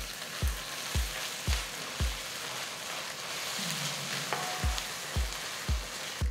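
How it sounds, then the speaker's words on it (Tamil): Onions with ginger-garlic paste sautéing in a pan for a Tamil-style paneer curry, a steady soft sizzle broken by regular knocking stirs, close and alone with no talk. "2 டீஸ்பூன் இஞ்சி பூண்டு விழுதை சேர்த்து வதக்குங்க."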